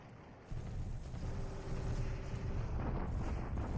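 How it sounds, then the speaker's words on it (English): Heavy rumbling bombardment in the wartime strategy game War in the Pacific, a sustained low booming roar that swells louder after the first half-second and keeps rolling without pause. "a bombardment attack north of Sian"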